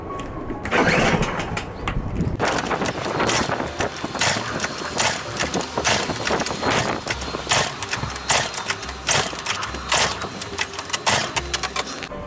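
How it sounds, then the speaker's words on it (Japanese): A small portable generator engine, able to run on gas canisters or gasoline, sputters and turns over with repeated mechanical pulls and bursts, then settles into a steady, fairly loud running rattle; no talking. "では改めてエンジンかけてみたいと思います。"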